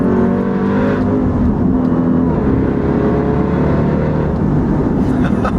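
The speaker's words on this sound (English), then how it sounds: "Damn, that supercharger. It's very prominent." Loud supercharged engine of a 2018 Jeep Grand Cherokee Trackhawk under a sustained pull, with a continuous roar and supercharger whine from inside the cabin that rises and holds without any talking.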